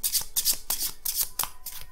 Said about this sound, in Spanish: primero vamos a barajar las cartas por el lado de los arrozales.